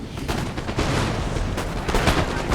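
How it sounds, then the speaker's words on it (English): Dense musket volleys and artillery fire in a Napoleon: Total War battle on the Russian campaign, a continuous loud crackle of overlapping gunshots with heavy booms. "Our men have now begun to open fire, and in loose formation, all of our guns get to shoot."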